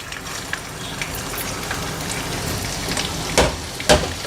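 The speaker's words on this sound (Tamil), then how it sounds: "எண்ணெயும் நெய்யும் சூடானதும் நம்ம இஞ்சியை சேர்த்துக்கலாம்." Ginger sizzling in hot ghee and oil in a pan, a constant crackling fry with a couple of louder spits near the end.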